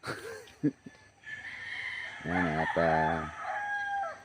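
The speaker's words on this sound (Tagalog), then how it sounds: "dinig nyo yung mga tilaok ng manok" A rooster crows in the near distance, its long harmonic call rising and falling, with a brief voice speaking just before it.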